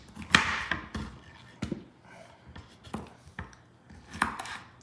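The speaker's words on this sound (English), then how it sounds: "going to cut some relatively thin slices" A knife cuts Spanish chorizo into thin slices on a board, making a series of sharp, irregular taps and thuds with short crisp slicing rasps between them, close and fairly quiet with no talking.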